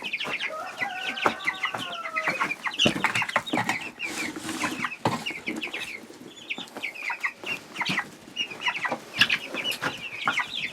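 Chickens loose outside their coop on a farm, clucking and squawking continuously near and far, several birds overlapping in busy, irregular calls with occasional louder squawks.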